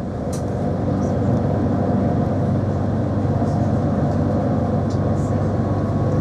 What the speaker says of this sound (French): On reprend le bus après ce petit trajet